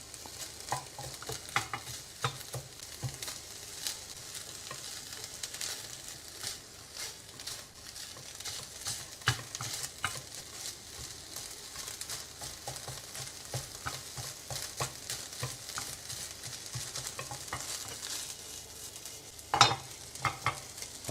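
Chicken breast frying in a pan is stirred and turned, a continuous sizzle broken by repeated scraping strokes of the utensil and a sharper clack near the end.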